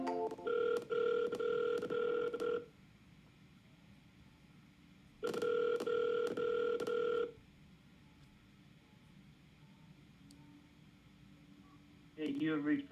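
An outgoing phone call on a cold sales call: two long electronic ring tones with a pause between them, loud and close, then a third ring starting at the end, with no talk.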